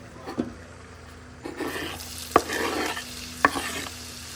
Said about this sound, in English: we're gonna go ahead and saute the onion